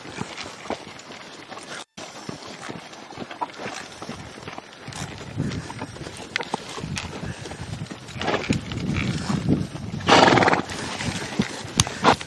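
A horse at a roping session whinnies and snorts amid irregular hoof clip-clops and shuffling on the ground, close by, with a loud neigh near the end.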